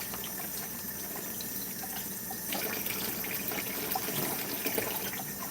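Tap water runs steadily into a sink as collard greens are rinsed under it, a constant close rushing flow with small splashes, and no one talks.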